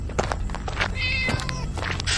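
A cat cries loudly in a series of drawn-out, wailing meows, close and insistent, over a low background rumble.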